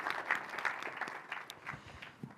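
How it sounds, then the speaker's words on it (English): An audience at a community chamber event applauds, a moderate burst of clapping from a crowd that gradually thins out over a couple of seconds. "Let's give all of them a round of applause."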